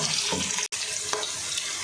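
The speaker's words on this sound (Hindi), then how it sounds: "अब मेरे प्याज फ्राई हो रहे हैं" Onions frying in ghee for a mutton karahi, a loud close continuous hissing sizzle that breaks off for an instant before resuming.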